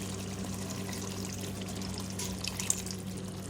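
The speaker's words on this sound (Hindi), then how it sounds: "पानी डालूंगी इसमें" Half a cup of water poured into simmering chicken curry in a pan, a faint, steady splashing trickle with small sizzling crackles toward the end, no talking.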